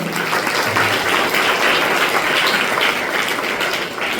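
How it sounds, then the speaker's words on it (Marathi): A church congregation claps together in sustained, dense applause, loud and close, holding steady throughout without speech. "आपण टाळ्या वाजवूया"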